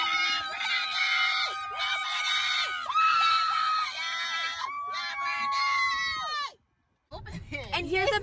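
Friends scream and shriek together at a graduation party, a loud, sustained burst of high-pitched overlapping voices that breaks off for a moment of silence, then starts again.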